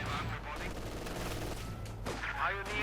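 Scattered rifle and small-arms fire crackles across a battlefield in Company of Heroes 2, a steady busy din with distant bursts and occasional radio-style unit voices layered on top.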